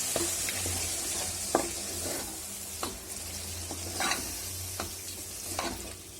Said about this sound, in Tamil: தயிர் சேர்த்து நல்லா கிளறி விட்டுக்கோங்க.